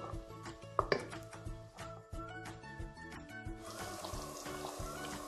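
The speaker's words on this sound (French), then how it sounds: "puis égoutter" Cooked broccoli gnocchi being drained in a kitchen, with clinks of a pot and utensils followed by a steady rush of pouring water, close and moderately loud.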